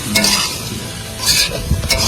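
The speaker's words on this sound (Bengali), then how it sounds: "এখন ভাজা আলু আর সয়াবিনটা দিয়ে দেবো" Fried potatoes and soybean tipped into a frying spice masala, a close sizzle with stirring scrapes in two louder bursts separated by a calmer stretch, no voices.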